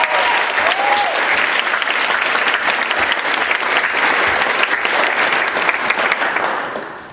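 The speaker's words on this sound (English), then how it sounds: "So if you just give her a round of applause." A large theater audience at a closing-night play performance claps loudly and continuously, a dense wash of applause that holds steady before fading slightly at the end.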